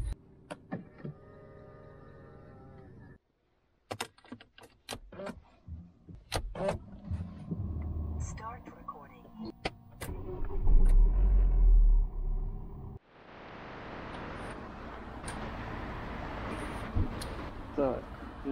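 A car drives on a road on the way to a service garage, with a steady low rumble of road and engine noise that swells into a louder, broader roar in the later part.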